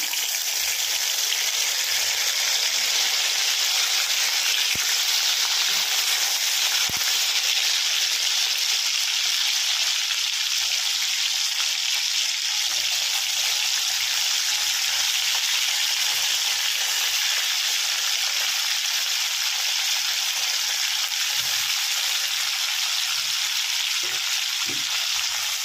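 Ginger and tomato paste fries in a hot wok with a loud, steady hiss and sizzle that runs unbroken for a long stretch, with only a few faint clicks.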